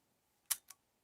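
Shutter of a Graflex Speed Graphic camera on timed exposure, a sharp mechanical click followed shortly by a second softer click in a quiet room.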